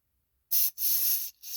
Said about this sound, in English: Now we want to go ahead and spray all this stuff right here in these holes, these ports.